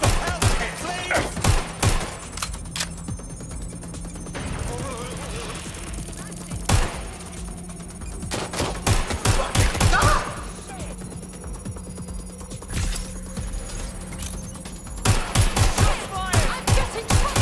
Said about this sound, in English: I'm getting shot here! What's happening? Shots fired!